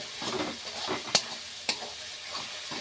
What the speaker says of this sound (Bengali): কাঁচা লঙ্কাগুলো দিয়েও আমি ভালো করে কষিয়ে নেব।